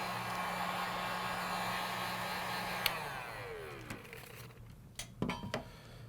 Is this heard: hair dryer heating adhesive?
yes